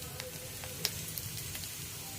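Asafoetida tempering crackles in hot oil in a pan, a low, steady hiss with a few faint pops scattered through it and no voices.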